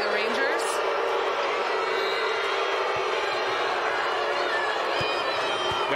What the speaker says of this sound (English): That got the crowd going.